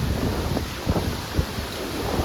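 Strong storm wind roars and buffets the microphone in a steady rumble, with a few harder gusts breaking through.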